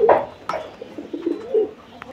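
A single silver Lahori pigeon coos at close range in a short series of soft, throaty calls, with small pauses between them and faint background noise.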